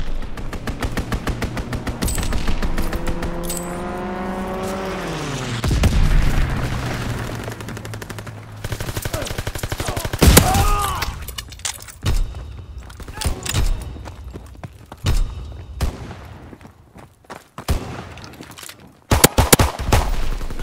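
Aircraft strafing run in the Call of Duty WWII video game: a diving engine whine, then bursts of rapid machine-gun fire and thudding impacts, loud and close, with mixed game sounds.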